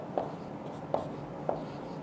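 Pen writing a line equation by hand on paper during a maths lesson, three short scratchy strokes evenly spaced, close and faint, with no voice.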